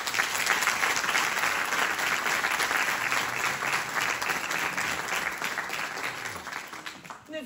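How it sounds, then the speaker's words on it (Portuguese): Audience applause at a fado gala, the Fest Fado in Mação, fills the hall steadily for several seconds with dense, even clapping that tapers slightly near the end. "peço então, por favor, o vosso aplauso"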